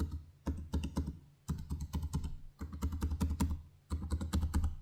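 Rapid keystrokes clatter on a gaming laptop keyboard in four quick bursts separated by short pauses, close up and crisp, with no talking.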